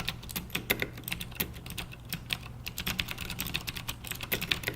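Rapid clicky typing on a mechanical keyboard with stiff Cherry MX Green switches, a steady stream of crisp, close keystrokes with no talking.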